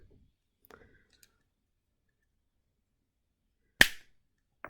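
Jewelry wire trimmed with cutters, one sharp, bright snip standing alone in near silence, with a few faint small clicks before it and another short click at the end.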